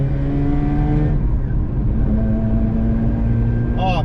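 A Mazda RX8's rotary engine runs on its factory exhaust, nearby and loud. A steady, smooth droning note holds before it dips briefly and rises again, and there is a quick rev at the very end.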